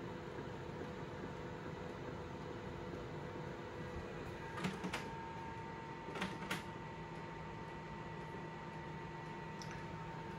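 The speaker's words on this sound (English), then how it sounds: "Printer calibration," A steady mechanical whir and hum from an HP Color LaserJet Pro MFP M479fdw laser printer warming up and calibrating, with a few brief clicks and clunks near the middle and end.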